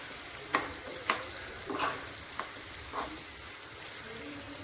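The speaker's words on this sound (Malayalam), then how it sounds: "നമുക്ക് ഒന്ന് ഇളക്കി കൊടുത്തിട്ട് ഒന്നും കൂടെ മൂടി വെക്കാം." Fish roe fries with a quiet, steady sizzle in a pan while a utensil stirs it, giving several distinct scraping strokes at roughly half-second to one-second intervals.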